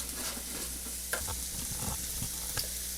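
Hamburger steaks fry in a pan with a steady, close sizzle under a low hum, and a few spatula scrapes and taps break through it now and then; nobody speaks.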